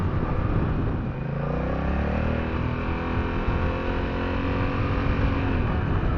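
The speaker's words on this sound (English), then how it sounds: "In sport mode, it does wind out the RPMs a little more." 2024 Honda Rebel 1100 DCT motorcycle engine revving in sport mode, a loud close rumble with rising engine tones sweeping up through the revs, steady throughout with no talk.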